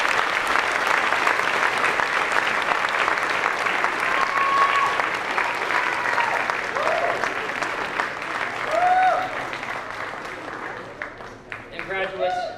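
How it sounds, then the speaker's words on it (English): A graduation ceremony crowd gives sustained, loud applause for international graduates, dense steady clapping with some cheers, easing slightly near the end as a voice begins. "Will you please join me in one more round of applause for all of our graduates today?"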